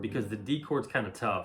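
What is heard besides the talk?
No everyday noise stands out behind the speech.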